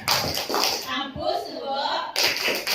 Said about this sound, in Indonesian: Kita tepuk tangan dulu ya Bapak Ibu.